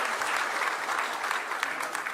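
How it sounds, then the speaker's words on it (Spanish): A church congregation gives a strong round of applause during a Sunday morning sermon, with steady clapping from many people filling the room. "Dale un fuerte aplauso al Señor Jesús."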